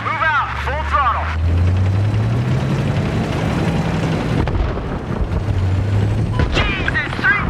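A tank in Battlefield 3 roars off at full throttle, its deep engine rumble building and holding steady and loud throughout, while radio voices talk over it.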